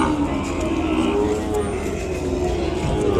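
Ongole cattle at a bull show give a sustained, fairly loud lowing moo that carries through the whole stretch over a busy background, with voices faintly mixed in.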